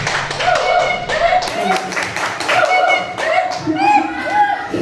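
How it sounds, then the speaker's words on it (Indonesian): Audience clapping for a presenter at a school teachers' learning community session, steady overlapping claps throughout with some voices and chatter mixed in, fairly loud and close. "Boleh sekali lagi kita beri tepuk tangan yang meriah kepada Bapak."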